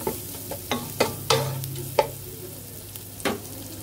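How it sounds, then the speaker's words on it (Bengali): Chopped onions sautéed in a pan and stirred firmly: about eight sharp spatula scrapes at an irregular pace over a low, quiet sizzle, close by, with no talking. "পেঁয়াজ কুচি। এখন ভালোভাবে কষে নিতে হবে।"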